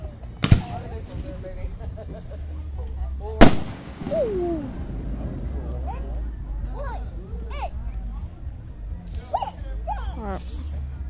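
Fireworks at a show in Kansas give two sharp, loud bangs a few seconds apart, followed by people talking and exclaiming nearby.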